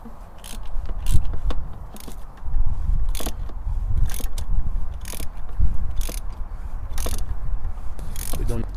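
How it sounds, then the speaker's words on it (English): A ratchet and socket tightens the oil filter housing on a Mercedes A150 Classic, giving a rapid series of close clicking ratchet strokes in repeated bursts over a low background rumble, with no voices. "we use the ratchet and socket assembly and just give it, tighten it until it's snug"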